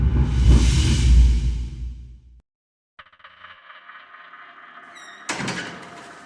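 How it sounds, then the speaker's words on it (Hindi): A door swings open with a creak and a whoosh of air, followed by a quiet hiss and a sharp squeaky thud near the end, set in a dark Hindi horror audio story. "दरवाजा खोलकर बाहर आते ही"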